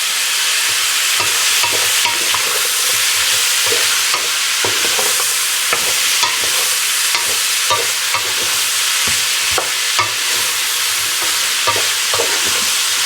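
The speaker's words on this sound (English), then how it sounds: "while that's starting to simmer down" Pork belly cooks in a pot over medium heat with red kidney beans to follow, giving a steady broadband sizzle and bubbling throughout, broken by repeated spoon-stirring scrapes and clicks, close and fairly loud with no talking.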